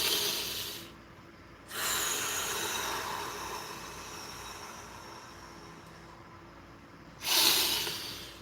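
Slow, deep breaths drawn in and pushed out during a calming breathing exercise, long airy hisses swelling and fading one after another, fairly close and steady with no talk.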